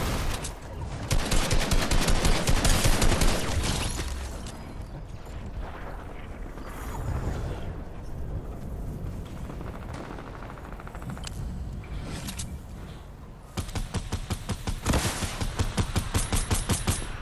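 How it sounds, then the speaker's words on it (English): Heavy gunfire in Fortnite, with dense rapid bursts of shots clattering loudly at the start and again near the end, and scattered firing in between. "How did none of those shots hit?"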